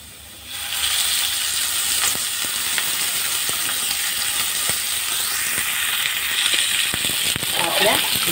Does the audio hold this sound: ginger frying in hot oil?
yes